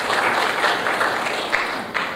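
Conference audience at Air Cargo India 2016 clapping for an introduced speaker, a steady, fairly loud round of applause with occasional sharper individual claps standing out.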